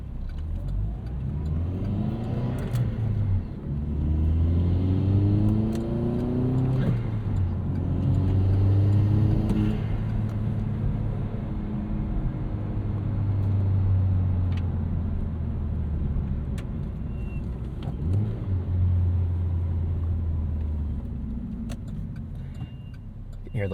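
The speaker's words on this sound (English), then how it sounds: "You get some pretty gnarly turbo sounds from this thing as well." A 2009 Chevrolet Cobalt SS Turbo engine revving up and down through gears, with turbo whine and a brief brake squeal, while a person talks over it.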